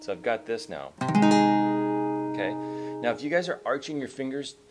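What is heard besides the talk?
No everyday noises stand out.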